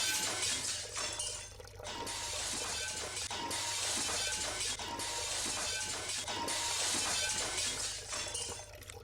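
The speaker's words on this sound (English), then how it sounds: "This time I hear the high-pitched noise of glass cracking" Glass tanks crack and shatter one after another, a series of bright, high-pitched breaking crashes repeating over about nine seconds beneath a steady low hum, fairly loud and close.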